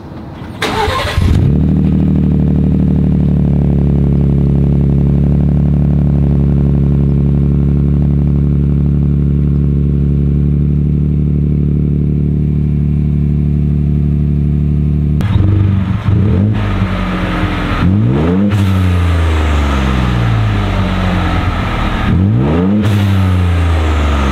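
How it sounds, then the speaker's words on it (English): A 2024 Ford F150 with resonators still installed cold-starts with a loud, rumbling exhaust that settles into a steady idle, then revs repeatedly in sharp rising and falling bursts, close and powerful. "I'll throw a couple clips of the sound as far as cold start and what it sounds like revved up"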